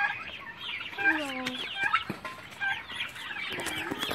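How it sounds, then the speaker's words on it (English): Turkeys and chickens on a farm cluck and gobble close by, a busy overlapping chorus of warbling calls and short clucks with no talking. "Later na because there are turkeys and chicken."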